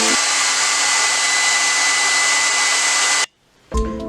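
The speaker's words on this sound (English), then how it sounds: "I'm gonna go ahead and dry liquid latex for the hair" A hair dryer blows steadily and loudly for about three seconds while drying liquid latex on skin, then cuts off abruptly, followed by a brief clunk.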